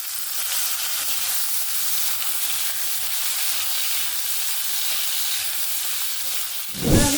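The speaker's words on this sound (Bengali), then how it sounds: "এবার আমি প্রথমে ভেজে নেব আলু, তার সঙ্গে দিয়ে দেবো একসঙ্গে সব ভেজে নেব গাজর, মটরশুঁটি" Potatoes, carrots and peas frying together in hot oil in a wok, a loud continuous hiss of sizzling that holds steady, ending in a sharp knock near the close, no voices.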